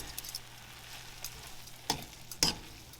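Carrots and spinach are stirred in butter and citrus in a pan with the heat off, giving a faint soft sizzle broken by a few louder scraping stirs near the end.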